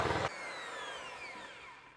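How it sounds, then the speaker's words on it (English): An electric hand whisk beats orange cake batter, a brief loud whirring burst that cuts off quickly, leaving a fading ringing whine. "Now, I'm going to whisk this with an electric hand whisk."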